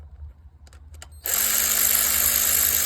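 After a few faint clicks, an electric ratchet starts up sharply and whirs steadily while tightening coil bolts on a Ford EcoBoost 1.5 engine, a close, constant motor buzz.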